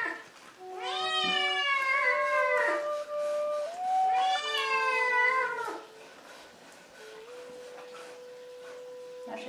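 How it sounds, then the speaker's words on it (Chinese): A cat meows loudly and up close in a rural home, with two long, drawn-out cries followed by a softer, shorter mew. "来，喵喵，出来"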